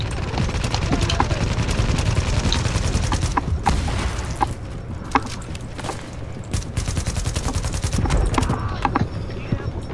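Sniper gunfire in the video game Tom Clancy's The Division cracks out as sharp, scattered shots over dense continuous combat noise and rumbling background, loud and busy throughout.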